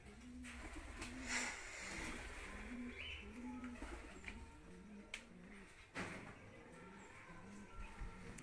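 Pigeons kept as stock birds coo in a repeated low rhythmic pattern, several soft calls in a row at moderate distance, with occasional clicks and knocks from the loft.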